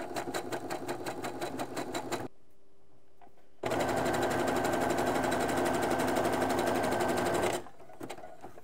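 Sewing machine stitching menstrual underwear, a fast, steady mechanical whirring chatter in two long runs separated by a short quiet pause, close and clear with no talking.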